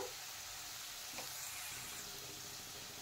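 Taro and potato pieces fry in a pan, giving a low, steady sizzle that crackles softly throughout with no voices over it.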